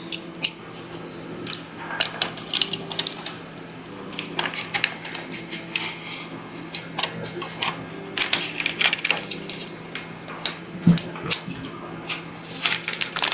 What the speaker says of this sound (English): And then we're just going to peel off the transfer tape.